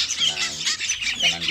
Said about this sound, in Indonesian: Saat ini saya memposting berbagai macam anakan burung.